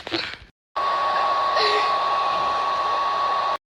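A hair dryer runs loud and steady at close range with a constant whine, starting after a short burst of other noise and a brief pause, then cutting off abruptly.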